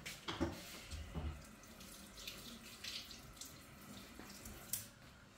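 A kitchen tap runs into a sink while dyed Easter eggs are rinsed under it, a soft continuous splash with small irregular bursts and drips, faint and steady.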